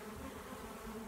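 A honeybee swarm buzzes around a wooden bee box after its home has been disturbed, giving a dense, steady drone that stays close and unbroken throughout.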